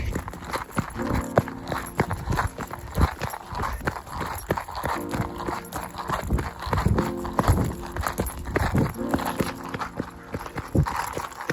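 Rapid clip-clop of horse hooves at a gallop over rough mountain terrain near Zakopane, a steady driving rhythm close by, with wind and rustling mixed in.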